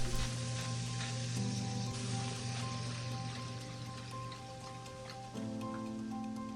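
Pork mince with garlic and ginger sizzling in a pan for hoisin pork lettuce wraps, a quiet, steady hiss with a faint hum running underneath and no voices.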